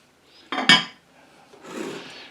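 A utensil scrapes the bottom of a pot of cooked BBQ beef and onions, two sharp metallic scrapes followed by a softer, longer rasp, close up with no talk.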